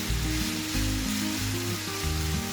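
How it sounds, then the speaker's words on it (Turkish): Chopped vegetables sauté for a pot-cooked meat and eggplant dish, giving a steady, close sizzle with a soft stirring scrape. No voice is heard over the frying. "sebzelerimizi ezmeden karıştıralım ki bütün sebzelerimiz aynı oranda kavrulsunlar"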